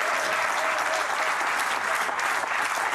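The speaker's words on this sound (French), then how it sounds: "on peut applaudir" Steady, dense applause from an audience fills the whole moment, close and evenly loud without a break.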